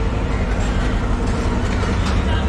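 Train engine on a railway in Pakistan, a loud continuous low rumble and mechanical drone with faint clanking, heard nearby without clear talk.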